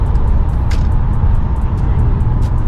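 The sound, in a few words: Chevrolet Lumina SS car engine throttle response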